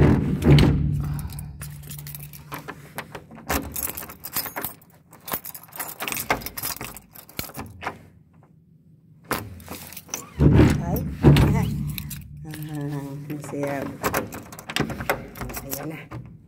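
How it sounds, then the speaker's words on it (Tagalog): A door is shut and locked with a jingling bunch of keys on the way out to work on a cold winter day, metallic rattles and clicks recurring through the clip while a person talks intermittently. "magsasara muna ako ng pinto ko"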